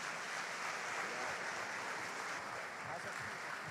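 Soft, continuous clapping from a church congregation, fairly distant and even, with a faint murmur of voices underneath.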